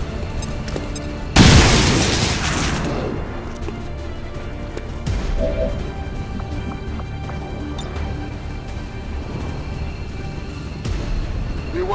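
A frag grenade blows up in XCOM 2, one loud booming blast with a long rumbling tail that fades over a couple of seconds, then quieter battlefield ambience with a few softer thuds.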